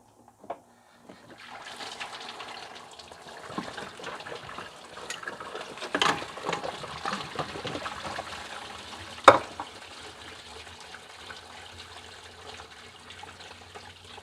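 Old coolant drains out of a car's cooling system into a catch basin below, a steady splashing, trickling pour after a couple of brief knocks, with a sharper clatter partway through.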